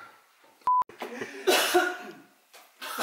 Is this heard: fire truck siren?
no